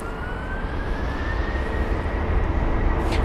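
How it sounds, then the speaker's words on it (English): The engines of a 19-year-old Airbus A330-200 bound for Algiers spool up at London Heathrow, a loud rumbling roar with a slowly rising whine building over a few seconds, no voices. "The A330 already spooling up as well."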